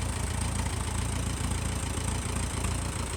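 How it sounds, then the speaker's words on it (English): A tractor engine chugs steadily at low speed while backing up, a rough rumbling idle with a faint knocking rhythm, close by and without speech. "Your tractor's backing up, sir."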